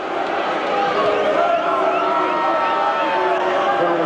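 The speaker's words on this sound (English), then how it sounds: "The crowd doesn't like it" A basketball arena crowd at a college game, Northwestern at Virginia, booing a tripping play; a dense, sustained roar of disapproval fills the whole stretch at a loud, steady level.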